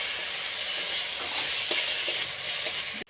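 Fried onions and bitter gourd stirred in a hot pan, a continuous sizzling hiss with faint scraping taps of the spoon, close and steady, ending abruptly.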